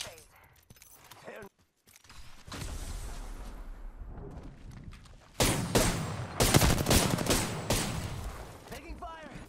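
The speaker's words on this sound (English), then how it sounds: "Taking fire." Rapid automatic gunfire bursts from an Apex Legends match, loud and dense, with shots clustering in sharp volleys toward the end over a continuous background of game noise.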